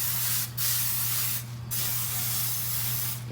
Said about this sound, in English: Give it a spray.